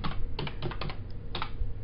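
Close, quick clatter of keys on a computer keyboard as a search query is typed, with short bursts of taps separated by brief pauses and no talk over it.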